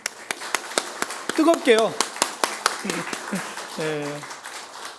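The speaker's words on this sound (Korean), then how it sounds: "우리 좀 뜨겁게 하나님께 영광 돌리면서 박수하겠습니다" Congregation clapping in a Sunday church worship service, sharp regular handclaps in a steady beat, with someone speaking briefly over them.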